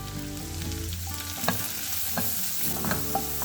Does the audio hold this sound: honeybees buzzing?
no